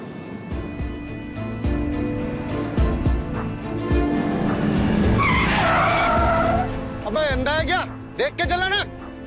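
A car skids hard to a sudden stop, a loud tire screech rising over engine rumble and ending in a sharp squeal, with people talking around it.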